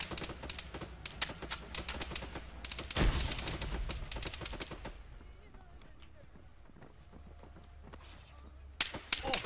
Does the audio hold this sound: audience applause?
no